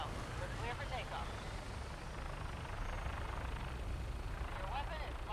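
Vertibird-style aircraft lifting off in Fallout 4, a steady loud rotor and engine roar filling the whole stretch, with faint voice-like radio chatter drifting in and out underneath.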